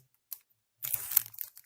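A plastic packet holding plywood is opened close by. A single faint crinkle comes first, then a burst of rustling and tearing crackles that fades out after about a second.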